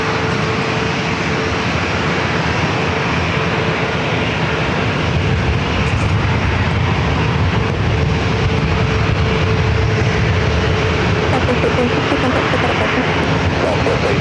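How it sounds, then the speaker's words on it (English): Southwest Airlines airliner departing San Diego airport, a steady, loud broadband jet roar rising slightly over the stretch with a sustained engine hum, continuous throughout. "Southwest 1860 departure"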